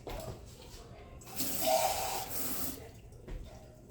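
Water runs briefly from a tap with a steady hiss and splash that rises for about a second and then fades out.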